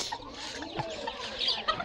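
A hen clucks softly in a few short, irregular calls against quiet background noise.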